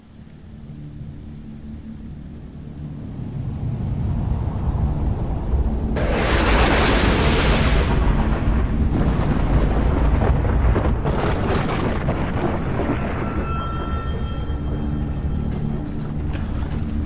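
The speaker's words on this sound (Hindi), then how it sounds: "ये तूफान ही है।" Storm in a movie scene, a deep rumble swelling into a loud, roaring crash that holds for several seconds before easing into a sustained low roar.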